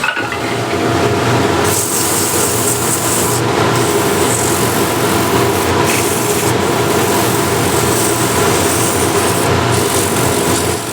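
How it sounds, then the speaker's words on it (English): Sanding a wooden picture frame, with a steady, dense abrasive rasp running unbroken and fairly loud throughout, close by and with no talk. "I'm going to sand all of this here"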